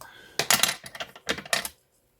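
A few quick, crisp snips of scissors cutting along paper lace, close up, in short bursts followed by silence.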